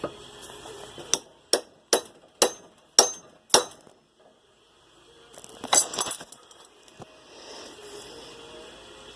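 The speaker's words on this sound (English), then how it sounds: "So what I can do is sneak a chisel in on the far side." Hammer blows drive a chisel against a U-joint retaining clip on the front axle of a second-generation Ram 1500, heard as six sharp, evenly spaced metallic strikes, then a pause and a few lighter clinks and scrapes.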